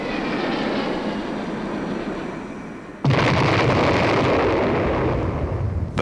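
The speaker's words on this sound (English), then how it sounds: "The hydrogen bomb, first exploded at the Kazakhstan test site in August '53" A Soviet hydrogen bomb test explosion at the Kazakhstan test site in 1953: a steady low roar breaks into a sudden, louder broadband blast about halfway through, then a sustained heavy rumble that holds to the end.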